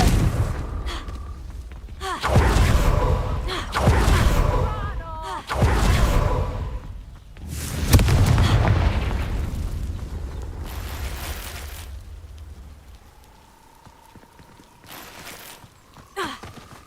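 Confringo fire spell exploding in Hogwarts Legacy: several heavy booming blasts in succession, each with a rumbling tail, followed by quieter game ambience and a rising tone near the end.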